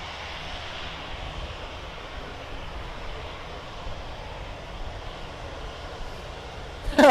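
A Speedbird airliner's jet engines rumble steadily at a distance while it moves on the runway at Birmingham Airport, a broad, even roar that stays at a constant level until a brief louder burst near the end.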